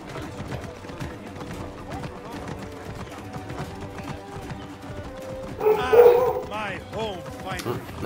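A dog in Assassin's Creed Origins barks a few times mid-clip, a loud burst standing out over steady horse hoof clip-clop and game ambience, with talking heard throughout.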